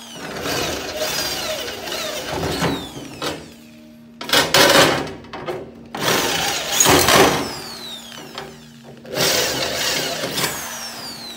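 A power drill with a 1/4 inch bit bores holes through an aluminum boat lid in three separate bursts, each a loud whining grind with gaps of near quiet between them, close and with no talk.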